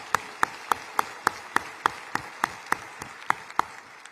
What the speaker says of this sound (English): So let's give them a big round of applause and their entire staff.